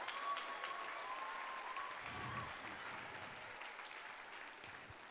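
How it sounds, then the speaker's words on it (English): Faint, distant applause from an audience at an elementary and middle school choir festival honoring a retiring music teacher, even and sustained, with a soft tone and a low murmur underneath. "So let's give him a huge round of applause for all he's done."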